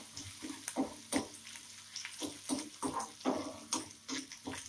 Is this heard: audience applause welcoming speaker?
no